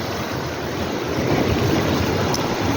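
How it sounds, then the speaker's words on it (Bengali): Strong storm wind and rough sea waves on the coast of Mousuni Island by a river embankment make a loud, continuous roar of gusting wind and surf that grows slightly stronger partway through, with no voices. "আর প্রচণ্ড গতিবেগে ঝড়ো সঙ্গে হাওয়াও বইছে।"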